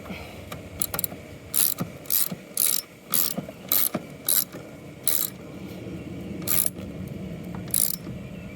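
A tap and die set cutting threads, heard as close, rhythmic ratcheting clicks in short bursts separated by brief pauses, with softer scraping and metal creaks between strokes.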